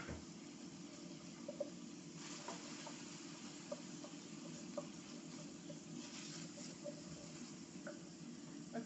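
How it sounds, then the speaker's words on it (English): Chopped garlic, five cloves, sizzles in a pan alongside soft, lightly charred peppers while cooking Spanish rice with chorizo: a steady, moderate frying hiss with occasional stirring clicks and pops throughout, no talking. "I'm adding 5 cloves of chopped garlic."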